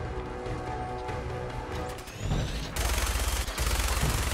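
Rapid gunfire from Fallout 4 during a fight in an irradiated area, bursts of shots crackling over continuous background game noise, growing denser and louder toward the end.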